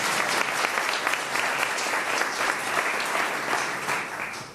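An audience in a casino cultural society hall applauds in a dense, sustained clapping that fades slightly at the end.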